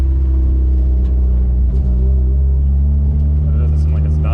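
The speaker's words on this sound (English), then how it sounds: "let's drive around the corner and see if we can get anywhere" Car engine running while being driven, a loud, steady low rumble with a slight rise in revs, heard from inside the vehicle while someone talks over it.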